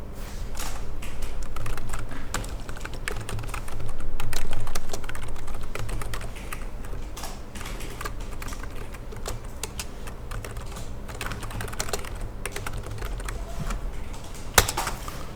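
Typing on a computer keyboard while working in AutoCAD, a continuous run of quick, close key clicks with a louder tap near the end.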